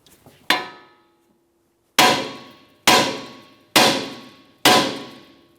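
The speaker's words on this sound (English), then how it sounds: "we'll be using a hammer, causing some light vibration along this area, attempting to separate this" Five sharp metallic hammer strikes hit a front axle joint on a 2011-2021 Jeep Grand Cherokee during a CV axle replacement, each a loud ringing clang that decays before the next, spaced about a second apart.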